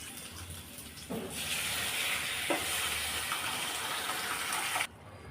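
Water runs and gushes in a steady stream for several seconds, close by, poured from a pressure cooker into a pot of sambar, then stops abruptly, leaving a faint sizzle underneath.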